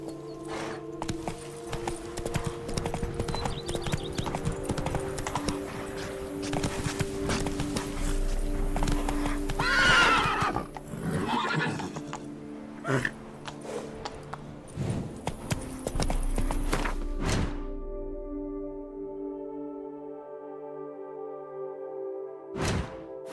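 Roach the horse galloping in The Witcher 3, a steady run of hoofbeat clip-clops over game music and ambience, clear and close, with a faint voice briefly present.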